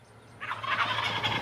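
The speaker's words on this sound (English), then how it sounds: "Wild turkeys live here in surprising numbers" A wild turkey gobbles in a rapid rattling burst, fairly close and loud, in a New England spring setting, starting after a short quiet lead-in with a steady low hum underneath.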